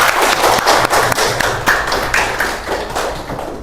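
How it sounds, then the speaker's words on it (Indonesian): A classroom of students claps for a classmate's answer during a Qur'an and Hadith lesson, a brisk, fairly close patter of many hands that thins slightly toward the end. "Kita kasih aplaus"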